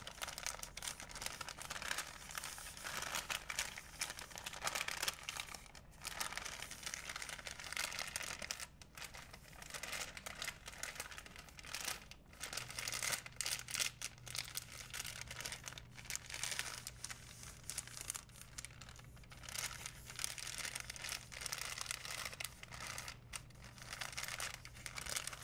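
Continuous crinkling and crumpling of a thin, crisp material being folded up, steady and close throughout, with soft tearing-like rustles and no talking.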